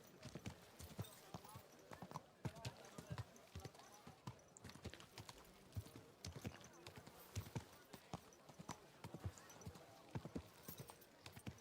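Rapid horse hoofbeats clip-clopping continuously in the video game Kingdom Come: Deliverance II, with a voice talking over them and a busy background.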